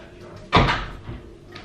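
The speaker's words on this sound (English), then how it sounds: "Close that door so you don't hear him on the phone" A single solid door thud close by, quick and loud, followed by a faint softer knock and quiet room tone, with no talking.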